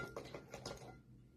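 Glass jars clink and knock together in a few quick, light chinks as someone rummages through them, close but quiet, then fading to near silence.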